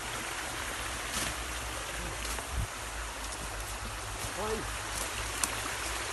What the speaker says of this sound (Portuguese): Ó, água de esgoto.